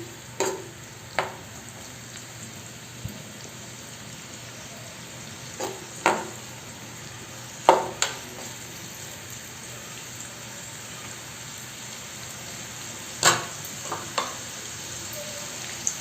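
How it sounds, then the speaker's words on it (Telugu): Onions fry in hot oil and are stirred in a pan for a chicken masala curry, giving a steady sizzle broken by several sharp scraping clicks from the spoon, close by and without speech. "నూనె వేడెక్కింది. ఆనియన్స్ వేసుకుందాం. ఒకసారి కలుపుకుందాం ఆనియన్స్ని."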